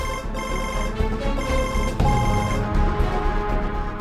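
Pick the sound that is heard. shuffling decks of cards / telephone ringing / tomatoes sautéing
telephone ringing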